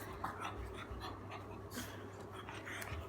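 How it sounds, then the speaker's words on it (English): A dog pants in quick, steady breaths close by, with faint whimpering and some background noise throughout. "with my dog."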